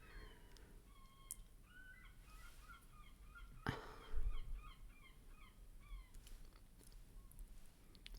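Outdoors, several birds call in a string of short, repeated cackling notes at moderate distance, with a sharp knock partway through and a soft background hum.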